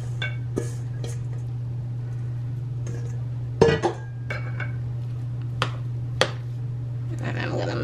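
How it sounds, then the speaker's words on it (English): Grated coconut goes into a mixing bowl for a Caribbean coconut cake, with a few sharp clinks and taps of utensil against bowl over a steady low kitchen hum, and one louder clatter partway through. "Okay, so I'm gonna put my coconut in here now."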